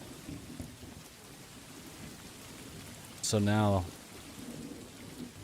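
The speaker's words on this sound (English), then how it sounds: "Bring in the heavy storm." Heavy storm sound effect of steady rain and thunder, a broad continuous hiss with a brief louder surge mid-clip, and a short burst of speech breaking in over the top.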